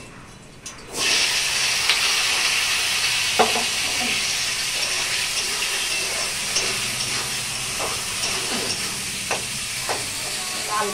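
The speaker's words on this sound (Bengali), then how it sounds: "গরম মশলা আর এদিকে তেজপাতা দেবো একটু করে, দিয়ে ফোড়ন দিয়ে দিলাম" Whole garam masala and bay leaves hit hot oil with a sudden loud hiss, then sputter in a steady, close sizzle with scattered pops and crackles.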